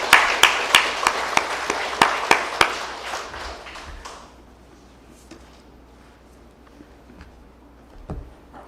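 Church congregation applauding during a Sunday worship service, a burst of many hands clapping loudly for about four seconds before fading into quiet room tone with a faint knock near the end.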